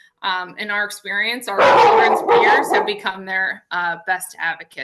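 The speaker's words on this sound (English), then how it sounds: "I apologize for my dog barking." A pet dog barks indoors around the two-second mark, a short burst of woofs partly masked by someone speaking over it during an online autism family support session.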